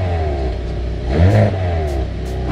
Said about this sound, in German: Wenn man den in den N Custom Mode packt, dann ist er noch lauter, wenn man den anmacht.